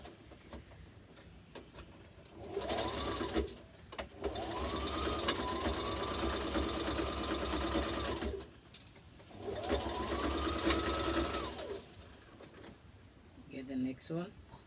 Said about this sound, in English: we're gonna stitch the shoulder